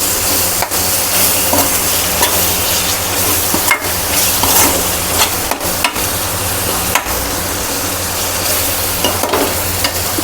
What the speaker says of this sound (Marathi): बघा टमाटो घालून घेते मी टमाट्याला चांगलं बारीक होऊ द्यायचं